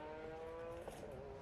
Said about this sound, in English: the 3-cylinder is why it's got that raucous sound to it